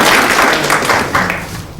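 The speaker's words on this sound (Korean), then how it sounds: "큰 박수를 한번 치고 마무리했으면 좋겠습니다" Attendees at a Gangwon provincial government meeting clap together to close the session, a short burst of loud, dense applause that fades a little within two seconds.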